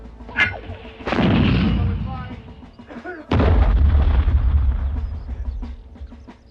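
An artillery gun fires, a sharp crack followed by a heavy rolling boom that decays over several seconds, then a second loud blast, with brief shouted voices between, in a war drama about ANZAC troops.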